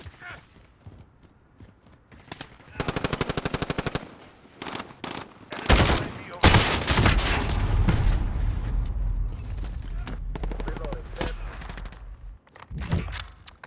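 Gunfire in a shooter video game: loud rapid automatic bursts and single shots crackle close by in irregular volleys, with in-game sounds between them.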